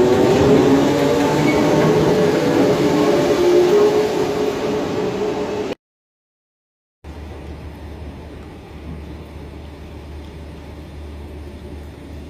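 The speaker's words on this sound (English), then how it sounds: "Train." A loud, steady rumble of a Merseyrail train rolling past for several seconds, cutting off abruptly, then a lower, continuous mechanical drone with no voices.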